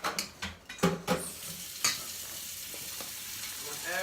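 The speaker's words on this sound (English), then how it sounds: "start stirring those and keep stirring and stirring and stirring and stirring" Dough balls stirred and tossed in a pan to coat them, with scraping strokes in quick bursts over a steady sizzling hiss, closing on a short clatter of cookware.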